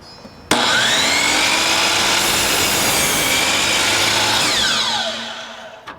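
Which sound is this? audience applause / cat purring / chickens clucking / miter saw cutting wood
miter saw cutting wood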